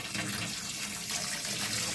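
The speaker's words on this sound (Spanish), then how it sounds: "vamos a empezar a poner el agua" Water pours steadily into a turtle aquarium, a constant close gushing splash that fills the whole stretch without pause.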